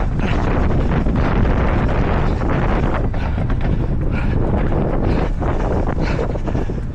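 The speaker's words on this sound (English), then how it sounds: "You can also tell it was quite windy up this hill" Heavy wind buffeting a microphone on a hill during a race, a continuous loud rumbling roar with gusty surges throughout.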